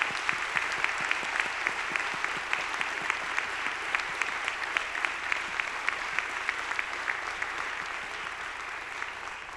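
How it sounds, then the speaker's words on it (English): Students at a college honors convocation receive a sustained round of applause from the hall, a thick wash of many clappers with a few sharper, regular claps standing out, continuous and even. "So one more round of applause for all of you"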